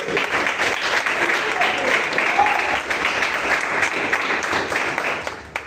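A church congregation claps loudly and continuously after a sermon, dense applause with a few scattered voices mixed in, steady throughout and easing slightly at the end.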